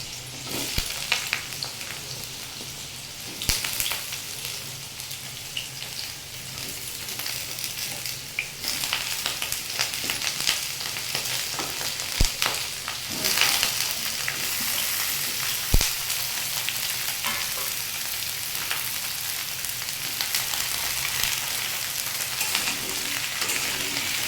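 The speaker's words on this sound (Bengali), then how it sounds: "সবজিগুলোকে এইভাবে আমি লবণ দিয়ে ভেজে নেব" Mixed vegetables, potato among them, frying with salt in a pan, a long, steady crackling sizzle up close, punctuated now and then by sharp clicks and scrapes of stirring.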